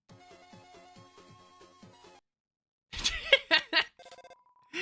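A toy's cool song from the video game Deltarune plays as a short, bright electronic jingle of repeated chiming notes, followed after a brief pause by louder bursts of game sound effects.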